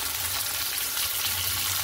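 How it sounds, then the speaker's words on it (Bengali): Fish sizzles steadily in hot oil in a home kitchen pan, a loud, continuous crackling hiss with no break and no voices. "দুটো করে মাছ ভাজছি"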